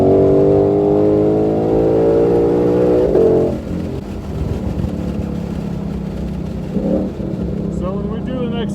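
A 2020 Ford Mustang GT500 accelerates hard on a race track on a cold 35-degree day, its loud engine note climbing steadily before easing back, then surging again as the driver gets back on the gas.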